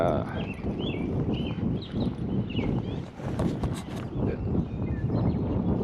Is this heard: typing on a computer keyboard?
no